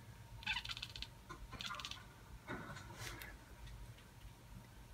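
A cat makes odd, quiet clicking and chirping sounds in short bursts, a few separate clusters over several seconds, close by with no talking.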